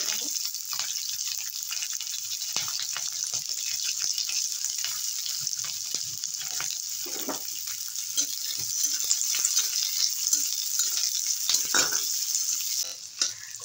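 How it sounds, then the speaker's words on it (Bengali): Sliced onions frying in a little oil, a bright, steady sizzle that swells somewhat midway, with occasional faint stirring scrapes, close and continuous, no talking. "টিউব করে কেটে রাখা পেঁয়াজগুলো ভেজে নেব।"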